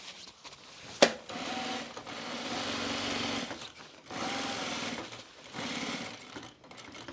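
Sewing machine stitching quilting on a bomber jacket, running in two long steady whirring bursts with a short pause and a sharp click near the start, close and clear with no speech.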